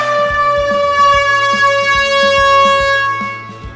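A loud, sustained horn blast opens a podcast episode, a steady, harmonically rich blare like an air horn that holds close and strong for several seconds before fading slightly at the end.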